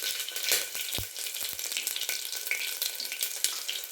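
Whole spices such as cardamom, cloves, green chillies and a piece of cinnamon sizzle in hot oil inside a pressure cooker, a crackling fry with sharp pops and a few clattering knocks.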